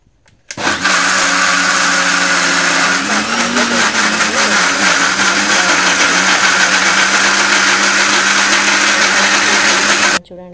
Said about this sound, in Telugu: ఇక్కడ నేను కూల్ వాటర్ తోటి మిక్సీ పడుతున్నాను.